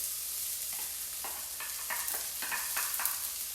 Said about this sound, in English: your food hitting the wok or your pan